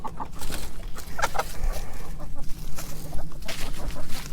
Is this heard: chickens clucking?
yes